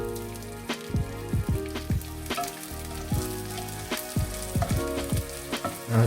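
Dried small fish frying in a pan, a steady loud sizzle with sharp crackles and spatters popping throughout, close up with no talking.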